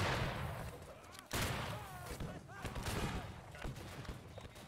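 Musket fire crackles in a Civil War battle in the game Battle Cry of Freedom, with ragged independent shots and a sharp nearby volley amid continuous shouting voices.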